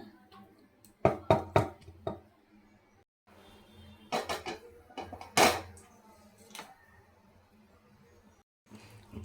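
Chutney ingredients being mashed and churned in a pot for a kids' chutney, heard as clusters of sharp knocking and clattering strikes against the pot with quiet pauses in between.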